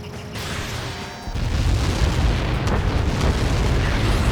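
Missile impact explosion in the Ace Combat 7 video game: a deep, loud rumbling blast that swells suddenly and keeps roaring at full strength, over a lower background hum before it.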